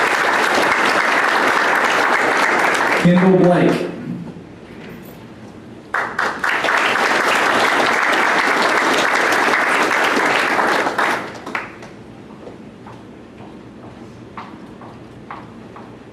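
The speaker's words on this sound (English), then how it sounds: "So let's give him a round of applause." Audience applause at a local awards recognition, loud and sustained broadband clapping for about eight seconds, a brief pause, then a second long burst that fades, with a name briefly spoken between.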